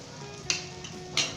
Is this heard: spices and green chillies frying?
yes